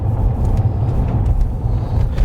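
A Range Rover with a hole in its engine, driven on the road, gives a loud, steady, close low rumble that holds through the clip without clear gear changes.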